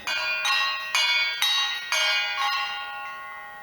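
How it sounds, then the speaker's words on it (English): A large red channel marker buoy's bell clangs at irregular intervals as ocean swells rock it, about six bright metallic strikes with long ringing decay, fairly close and alone. "It's the sound of a channel marker out behind my own house"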